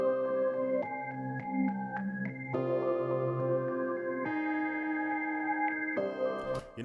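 Looped beat melodies slowed with a half-time effect play as sustained, dark synth-like tones shifting between held chords every second or so, clear and alone without talking.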